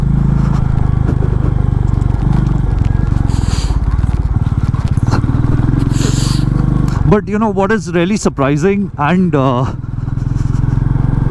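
A Royal Enfield Meteor 350 motorcycle ridden off road, its engine a steady low thump and rumble throughout, with someone talking over it in the latter half.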